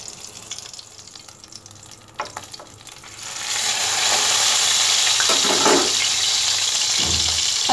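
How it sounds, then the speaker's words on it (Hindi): Chapli kebab shallow-fries in hot oil, a quieter crackle for the first few seconds before a loud, dense, steady sizzle swells up and continues close by, with a light knock near the end. "अभी हम इसको वन साइड फ्राई होने देंगे, फिर हम टर्न करेंगे"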